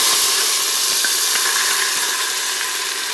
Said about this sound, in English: we're going to use the grease from it to cook our onions and garlic